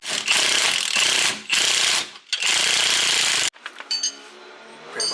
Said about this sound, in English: now that we let that bolt soak down for a little bit, we'll go ahead and remove it